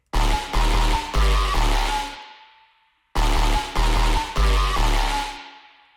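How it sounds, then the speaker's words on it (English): Synth chords drenched in a bright, springy reverb from a Crystalline plugin, two loud phrases of stabbing notes each ringing out into a long decaying tail, with a short silent gap between them. "this reverb's a little bit springy"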